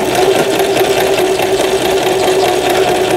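A Riccar 1015 household sewing machine stitches steadily, a loud, even mechanical whirring hum with a fast repetitive needle rhythm running continuously up close.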